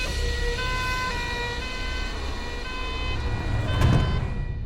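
An ambulance siren wails in a film scene, a steady, loud tonal tone that holds throughout, joined by a brief burst of noise near the end.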